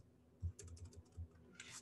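Quiet computer keyboard typing in a rapid, irregular run of soft key clicks with a couple of heavier thumps, heard close and alone.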